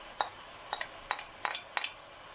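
Tomatoes go into a frying pan for karnıyarık and get stirred, giving faint soft sizzling with five light utensil clinks against the pan at a steady pace.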